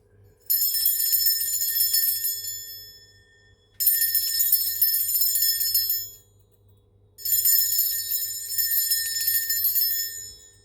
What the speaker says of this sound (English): I'm going to ring a bell actually first, just to cleanse the space around us.